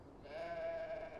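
A single drawn-out sheep bleat from the game Beyond: Two Souls, clear and close, with a slightly synthetic, game-like tone and no talking.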